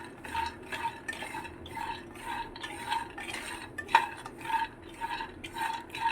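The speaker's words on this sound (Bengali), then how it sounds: "বাদামগুলোকে আমি আবার কড়াই দিয়ে দিলাম। এটাকে পুরোপুরি লো ফ্লেমে ভাজতে হবে" Raw peanuts stirred in a kadai over a low flame for barfi, a spatula scraping the metal pan in a regular rhythm of about two strokes per second, close and clear with no talking.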